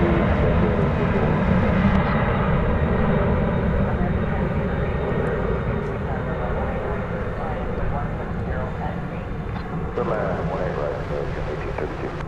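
A FedEx plane flying over at DFW Airport at night, a loud continuous engine roar that swells then slowly fades, with people talking over it.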